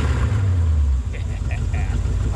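A car's 350 Chevy small-block 5.7-liter V8, a detuned Corvette engine, rumbles close and loud with a deep low-end throb, while a voice talks over it partway through.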